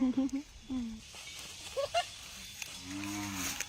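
Cattle low from nearby while people talk; clipped voices come first, then a drawn-out, deep moo rises near the end.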